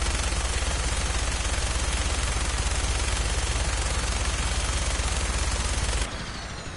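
Sustained, dense automatic gunfire from Fallout 4, loud and continuous with rapid repeated shots for about six seconds before cutting off abruptly.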